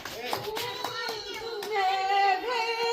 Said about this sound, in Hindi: तालियां हो जाए दर्शकों तालियां बजाइए